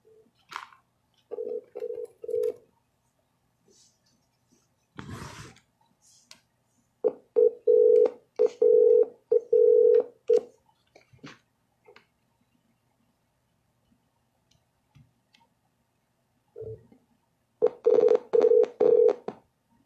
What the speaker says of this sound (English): I will start the dialer